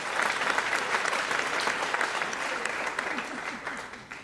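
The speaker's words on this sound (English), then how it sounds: "Please, another round of applause for them." Steady applause from a reception and awards celebration crowd after a tango performance, a dense, even wash of clapping filling the room with no voices over it, tapering slightly at the end.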